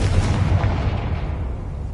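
A Confringo blasting spell goes off in the video game Hogwarts Legacy, producing a loud, sustained rumbling roar that holds steady for about two seconds and fades only slightly.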